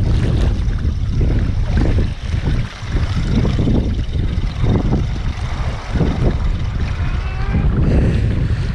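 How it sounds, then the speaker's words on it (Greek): Strong wind buffets the microphone at sea, roaring continuously with gusty swells and water sloshing beneath, loud and close. "Ο αέρας όλο και δυναμώνει."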